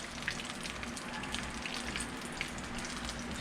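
Steady crackling sizzle of folded tacos frying in hot oil, close and continuous with scattered sharper pops, no voices.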